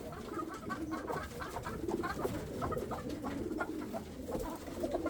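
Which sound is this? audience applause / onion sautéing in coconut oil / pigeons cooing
pigeons cooing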